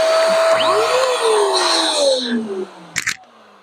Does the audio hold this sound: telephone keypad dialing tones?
no